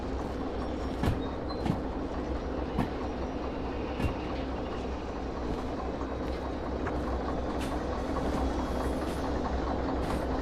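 Train with a caboose rolling on rails in Derail Valley, steady rumble with sharp clickety-clack rail joint clicks at irregular intervals, continuous and fairly loud, no talk.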